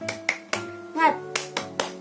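A classroom of children claps a rhythmic spirit clap in quick, uneven bursts of hand claps mixed with short chanted voices. The claps are close and fairly loud.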